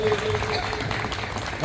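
Applause at a community ceremony in Diu honouring bright students, a brief dense burst of many hands clapping, near and loud, with faint voices underneath.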